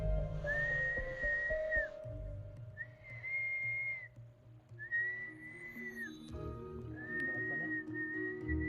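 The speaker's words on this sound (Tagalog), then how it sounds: "So pumipito ngayon yung bata." A child whistles four long, steady notes, each held for about a second with short pauses between, over a low background rumble and some splashing.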